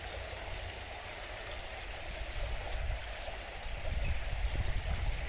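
A Scottish burn runs high with a lot of water. Its steady rushing flow stays constant and nearby, with the low turbulent churning growing a little louder toward the end.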